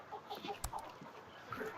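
Roosters in a poultry farm flock cluck softly in short, scattered calls, fairly faint, with a brief sharp knock partway through and no one talking.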